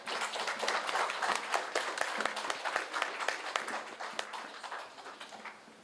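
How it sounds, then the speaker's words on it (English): An audience at a business conclave on India–Japan trade breaks into sustained applause, a dense steady wash of many hands clapping for several seconds, easing slightly toward the end with no speech over it. "big applause to Kai India and Mr."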